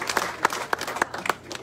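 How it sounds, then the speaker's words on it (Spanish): A crowd applauds at a municipal event for mayors and deputies in Colotenango, Huehuetenango, giving a short, sparse round of scattered claps at moderate distance. "Fuerte los aplausos, por favor."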